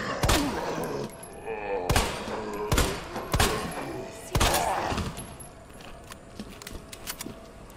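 Gunfire in the Resident Evil 2 Remake video game: several sharp, loud shots spaced about a second apart, each with a short ringing tail, followed by quieter in-game ambience.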